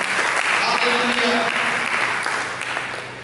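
Loud, dense applause from a church congregation, many hands clapping together with a few voices audible underneath before the sound tapers slightly at the end.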